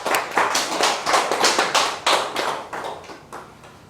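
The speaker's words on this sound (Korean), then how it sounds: "일단 답변 주신 우리 쌤한테 큰 박수가 필요하고요" Applause from a lecture audience: many hands clapping in a crowd, steady and fairly close, swelling in waves and then tapering off toward the end.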